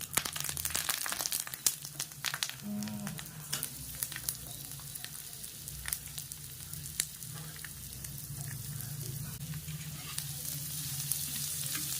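Steady sizzling of chopped onions frying in hot oil, with occasional stirring scrapes and crackles, close and continuous with no talking.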